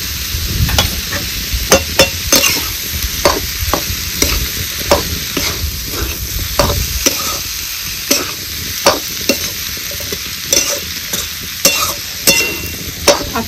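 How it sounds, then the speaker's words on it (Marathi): Cucumber bhaji with crushed peanut powder being stirred in a pan of hot oil, a constant loud sizzle and fry punctuated by repeated sharp scrapes of the spoon against the pan, close up and without speech. "आता तेल सुटत तोपर्यंत ह्याला आपल्याला हलवत राहायचं."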